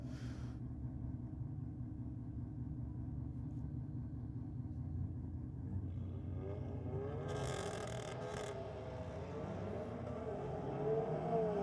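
A Nissan Pulsar runs down a drag strip at a night meet at Sydney Dragway, heard as a faint, distant engine rumble. The engine note then swells into a rising, revving drone toward the end.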